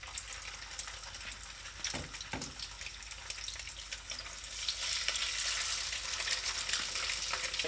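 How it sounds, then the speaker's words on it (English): Fish sizzling and frying in hot oil in a pan, a steady loud crackling hiss with a few sharper pops and stirring scrapes, close and continuous without talk. "I got some oil heating up in this pan here."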